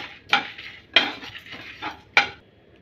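Whole spices such as pepper, cumin, fennel and cinnamon stirred in a metal pan for chicken chukka, with four sharp scraping clinks of a spoon at uneven intervals, close and alone.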